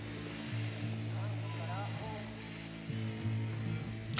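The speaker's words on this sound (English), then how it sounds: "Drone is airborne." A drone hums steadily in Ghost Recon Wildlands, a low droning engine tone that wavers slightly while someone talks over it.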